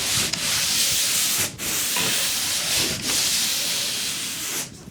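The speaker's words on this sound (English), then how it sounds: "So all we need to do is sand around the edges." A sand pole scrubs a drywall ceiling patch in steady, raspy back-and-forth strokes, close and continuous, broken only by a few brief pauses as the pole is lifted and repositioned.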